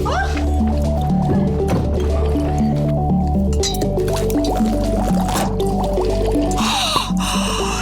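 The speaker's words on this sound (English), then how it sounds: "It's bubbling!" Liquid bubbles and gurgles continuously with wet squishing pops and small clinks, close and steady, with a brief hiss near the end.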